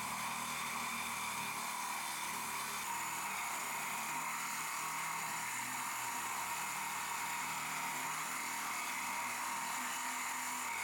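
Water-cooled drill boring into very hard stone, a steady high-pitched grinding whine that holds without a break throughout, fairly faint and alone, with a slight change in tone partway through.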